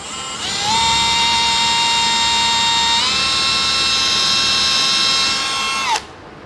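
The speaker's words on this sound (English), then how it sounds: "Here we go, pre-drilling our lag screw spots." A power drill pre-drills holes for lag screws while a shelf is mounted: one loud, continuous whine that spins up, steps slightly in pitch midway, then stops abruptly, with no talk.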